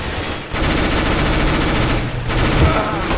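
Dense, continuous automatic gunfire from the CS:GO video game, loud and sustained across the whole stretch with only a brief dip, as in a close-range firefight.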